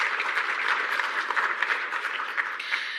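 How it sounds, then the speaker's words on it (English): A symposium audience at a climate-resilience event gives a round of applause, a full, continuous patter of many hands clapping at fairly close range with slight rises and dips, and no voices over it. "Please, another round of applause for Nelson."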